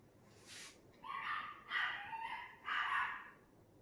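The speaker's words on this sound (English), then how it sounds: "I don't know why my dogs are barking" Dogs barking indoors at a distance, a short yip followed by three longer barks and whimpering yelps, fairly faint against a quiet room.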